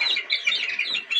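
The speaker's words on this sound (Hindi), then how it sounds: "मुर्गी के बच्चे देखते हैं।" Young desi chicks on a poultry farm in Punjab peep in quick, high, repeated chirps, several birds overlapping in a close, steady chorus.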